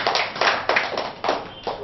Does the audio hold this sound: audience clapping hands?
yes